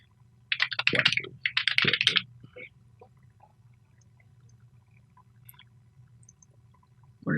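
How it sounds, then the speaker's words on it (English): Quick bursts of keyboard typing while a project name is entered, two clusters of rapid clacking keystrokes near the start, then a low steady hum with a few faint clicks. "We have to type in the name of the project."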